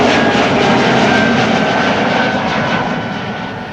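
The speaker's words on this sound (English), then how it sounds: "And another A220" An Airbus A220 (Bombardier C-Series) jet departs runway 36L at Amsterdam Schiphol amid rain showers, a loud, close, broad engine roar that slowly fades toward the end.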